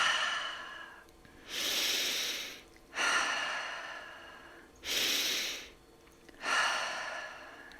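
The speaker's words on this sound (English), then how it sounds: "When you're exhaling, I want you to really visualize like you're fogging up a mirror here. So it's called a ha breath." Four long, breathy open-mouth "ha" exhales like fogging a mirror, steady and close, during a beginner reformer workout, each swelling quickly and tapering off with short pauses between.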